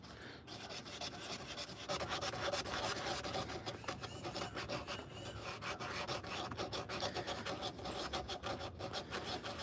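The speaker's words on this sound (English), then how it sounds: "Let's do a little more sanding on the bowl" Steady, close rasping and rubbing as sandpaper works over the bowl of a hand-carved wooden spoon, a continuous scratchy texture with fast uneven strokes and no talking.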